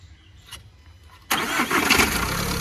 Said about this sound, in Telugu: సింగిల్ సెల్ఫ్లో బండి స్టార్ట్ అవుతుంది.